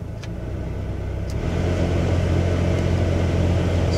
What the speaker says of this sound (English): when you turn it on, you get a bit of a rumbling sound from it.